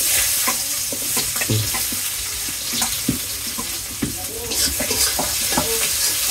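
Onion and bay leaf sizzle in hot oil in a home kitchen pan, with a steady fry hiss broken by repeated scraping and clinking stirs close by.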